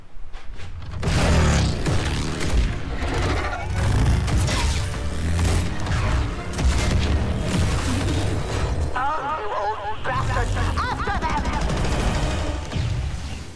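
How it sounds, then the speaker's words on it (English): Gears of War 4 combat gives a dense, loud barrage of blasts, crashing debris and rattling gunfire, sustained throughout with a brief lull near the end. "Random explosion."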